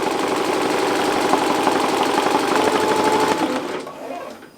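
Multi-head embroidery machine stitching in a steady, rapid mechanical chatter, loud and close, running evenly before winding down and stopping near the end.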